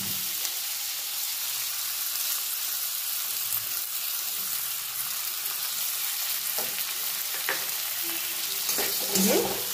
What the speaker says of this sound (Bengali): মশলাটা কিছুক্ষণ সব সবজির সঙ্গে নাড়াচাড়া করে